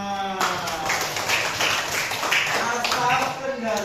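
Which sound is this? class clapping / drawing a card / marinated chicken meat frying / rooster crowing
class clapping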